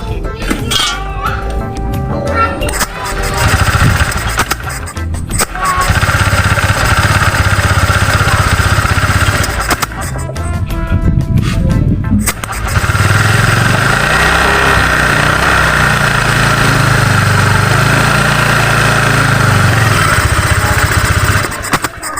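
A scooter engine with its CVT drive belt and pulley removed starts and settles into a steady idle, loud and close, with the engine note wavering over the last half of the clip.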